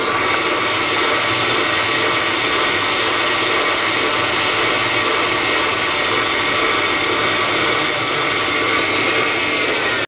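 An electric mixer beats butter and sugar for a butter cake, giving a steady, loud whirring drone that runs unbroken from start to finish with no talk over it.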